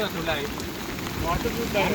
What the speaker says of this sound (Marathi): पाऊस खूप सुंदर आहे